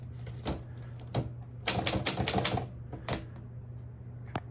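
Keys strike on a Royal HHE manual typewriter, first as scattered single clacks, then in a quick cluster of crisp strikes with bright ringing overtones. A steady low hum sits underneath.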